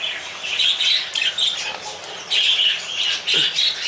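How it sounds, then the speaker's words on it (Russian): Pet parrots squawking and chirping as they flutter in to be fed, repeated shrill calls in bursts with soft wing movement, fairly close and heard without talk. "Попугаи хотят кушать, вот они, смотрите, подлетают"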